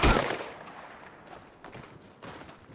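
Gunfire in the video game Red Dead Redemption 2: one loud, close shot opens, followed by fainter scattered shots and rumble in the background.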